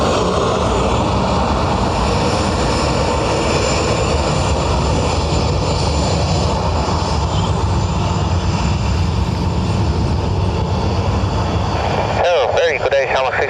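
A Ryanair airliner from Edinburgh at Dublin airport gives off a loud, continuous engine roar that fills the whole stretch, with air traffic radio talk mixed in.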